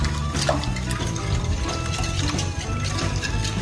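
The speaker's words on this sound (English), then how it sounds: "And now I'm just going to start whisking." A hand whisk beats a sugar and vanilla extract mixture in a bowl with a steady, busy scraping and clicking rhythm that runs close and continuous throughout.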